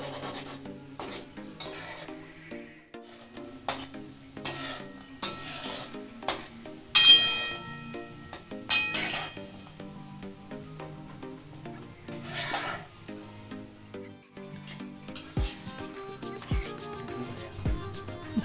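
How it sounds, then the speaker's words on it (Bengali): Coconut khasta goja snacks deep-fry in oil over a medium flame, a soft bubbling sizzle broken by intermittent scrapes and stirring taps, with a few sharper clinks near the end. "এখন আমি গ্যাসের দমটা মাঝারি করে একটু লাল লাল করে ভেজে নেব।"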